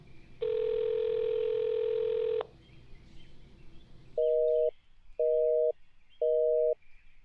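Telephone line sounds from a call placed in South Korea: a steady dial tone holds for about two seconds, then after a short pause three evenly spaced beeps of a busy signal follow, loud and clean.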